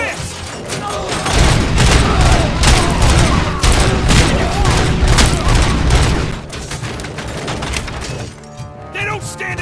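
Heavy gunfire rattles in RoboCop: Rogue City, dense overlapping bursts and booms pounding loudly for several seconds before tapering into scattered shots, with voices shouting over the battle.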